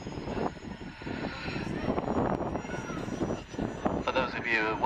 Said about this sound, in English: Just spooling up the engines now.